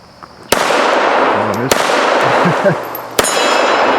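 Three sharp loud shots from a small handgun, each followed by a long hissing burst as 2-liter soda bottles explode, spaced about a second apart outdoors with a faint voice between.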